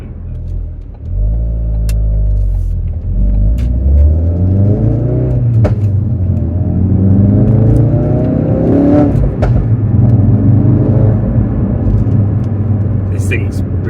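A Ford Focus RS MK3 with the Hendy Performance HP500 upgrade pulls hard in fourth gear, its engine note climbing steadily and loudly from inside the cabin while the driver talks over it.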